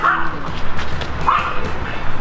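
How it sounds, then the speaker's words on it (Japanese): A dog barks and yips at people walking past a park near a bus stop in Kyoto, short yapping calls at moderate distance over outdoor background noise, with some voices nearby. "めちゃめちゃ吠えられてますよ。"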